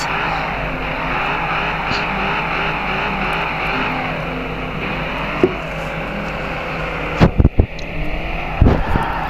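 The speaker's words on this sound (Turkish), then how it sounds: "Çok kötü kayıyor." A car skidding and sliding in the video game Car Parking Multiplayer, a steady engine drone with the slide running continuously, then a few sharp bumps and thuds near the end.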